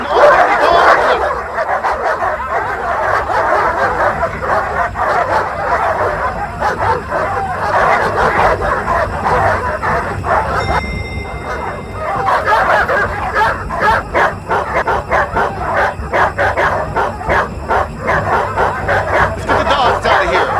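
Several dogs barking and yipping excitedly inside a building near an elevator shaft, loud and continuous throughout, with voices talking underneath.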